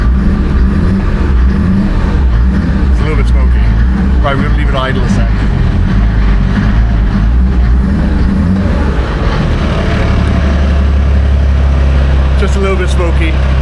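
A 1973 Mercedes W108 fitted with an OM606 diesel engine runs loud and smoky at idle, a dense steady rumble that fills the whole stretch, with voices talking over it.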